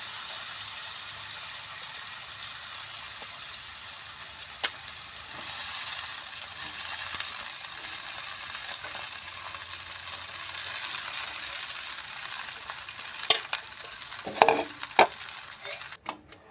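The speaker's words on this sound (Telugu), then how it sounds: "ఇప్పుడు గ్యాస్ సిమ్లో పెట్టుకొని అటుకులు వేసుకుందాం" Flattened rice stirred into a sizzling spice tempering over a low gas flame, a continuous soft frying hiss with scraping stir sounds and a few clinks near the end.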